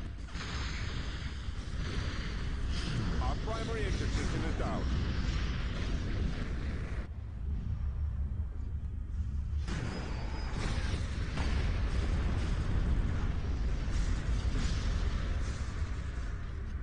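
Explosions tear through a Star Wars space-combat game as an ion cannon is destroyed, a dense, loud roar of blasts and rumble that runs throughout with a short thinner lull midway.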